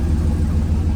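A 6.0 Vortec V8 fitted with upgraded 58 lb/hr fuel injectors idles with a steady, close, low rumble that holds even and unbroken for the whole second, with no talk over it.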